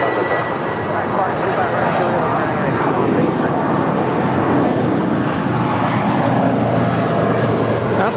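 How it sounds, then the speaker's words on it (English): An 18-year-old JetBlue Airways Airbus A320 departs LAX for San Francisco, a loud, steady close jet roar filling the whole stretch, with talk over it. "It's JetBlue Airways Flight 2736. It's an 18-year-old Airbus A320."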